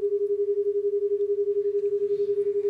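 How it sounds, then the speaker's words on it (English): Two steady electronic tones, one at 200 hertz and one at 211 hertz, sound together and merge into a single hum. Its loudness throbs about eleven times a second for nearly three seconds, with no voices. "So that is 11 hertz, and that's a beat frequency."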